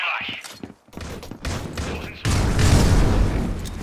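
Grenade explosions in the C-OPS shooter game, with sharp bursts early on and then a loud sustained blast-filled rumble, under a commentator's voice.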